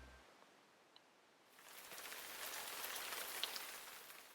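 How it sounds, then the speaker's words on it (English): Quiet, steady rain falling on a surface outdoors, a soft hiss that swells after a near-silent start and continues evenly with faint scattered drop ticks. "It's a quiet rain, peaceful somehow."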